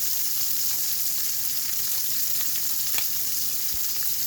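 Shrimp sear in a hot pan for a shrimp scampi, giving a steady, close, dense sizzle that holds level throughout, with a faint scrape or two and no voices.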